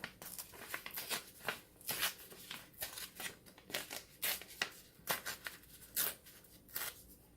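Paper is torn by hand into small pieces for Halloween ghost crafts, a rapid series of short, close ripping bursts repeating irregularly over several seconds.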